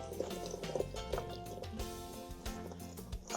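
Cooked white beans draining, with liquid trickling and dripping in a continuous, soft, close stream, broken by small irregular splashes.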